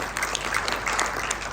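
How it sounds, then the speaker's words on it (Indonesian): A church congregation claps steadily during a sermon, a dense, even patter of applause filling the space without pause. "Berikan tepuk tangan bagi dia."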